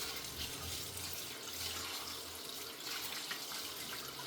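Raw meat rinsed under a running kitchen tap, with a steady, soft splash of flowing water into a sink and faint handling noises.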